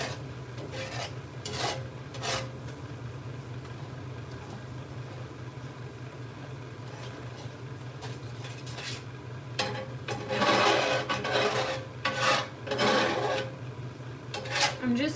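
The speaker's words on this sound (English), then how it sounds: "I'm just stirring like crazy because I don't want it to burn." A spoon stirring a balsamic berry glaze in a pan as it thickens, making scraping and rubbing strokes over a steady low hum, quiet at first and then brisker and louder near the end.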